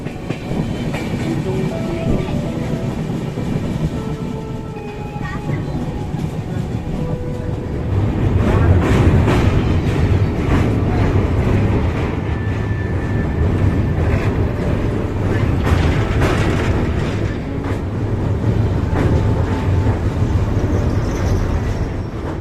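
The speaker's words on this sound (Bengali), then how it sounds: "ট্রেনটা এখন ব্রিজের উপর দিয়ে যাচ্ছে আর এই ব্রিজের উপর দিয়ে ট্রেন যাওয়ার সময় আওয়াজগুলো হয়" A passenger train crossing a bridge, with loud continuous rumbling and clattering of wagons, rhythmic metallic clicks rising and falling, heard close from inside the train.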